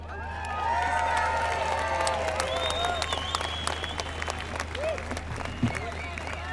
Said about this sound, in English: let's give a big round of applause and appreciation for Simone Marshall.